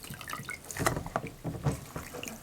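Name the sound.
sponge being soaked in a bowl of water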